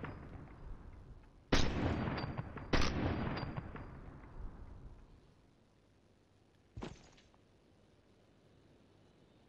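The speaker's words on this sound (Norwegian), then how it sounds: "Vi bygger, jeg skyter veggen." Gunfire in Fortnite strikes a built wall, with two sharp loud shots near the start, then a fainter single crack later. Each decays into a rumbling tail, and no one talks.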